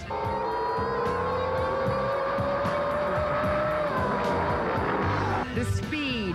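Racing speedboats scream past, a loud, sustained high-revving engine whine that bends slowly in pitch, joined by a sharper burst near the end.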